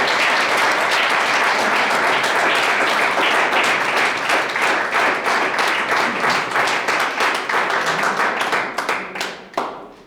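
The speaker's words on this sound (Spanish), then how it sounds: "Nos dan de palmas otra vez." Congregation at a church service claps together in a loud, fast burst of applause, a dense run of sharp hand claps close by that holds steady and then thins and fades out near the end.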